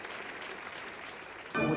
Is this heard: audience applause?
yes